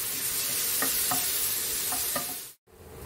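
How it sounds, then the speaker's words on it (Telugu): Banana pieces frying in ghee in a pan for a banana coconut sweet, a constant broad sizzle close by with a few soft spatula knocks, then a brief cut to silence before the frying resumes. "ఈ నెయ్యిలో అరటిపండు ముక్కలు కొంచెం మెత్తబడే వరకు ఫ్రై చేసుకోవాలి"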